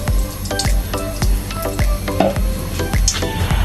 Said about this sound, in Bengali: আমি এখন সীমিত ঘি দিয়ে দেব